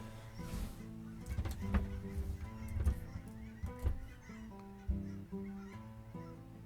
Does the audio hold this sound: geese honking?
yes